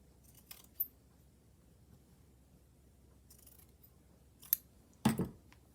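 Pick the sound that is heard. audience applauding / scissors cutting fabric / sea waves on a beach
scissors cutting fabric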